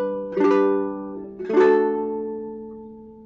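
Ukulele played fingerstyle on How Deep The Father's Love For Us: two plucked chords about a second apart, each ringing out and slowly decaying, close and fairly soft with no voice.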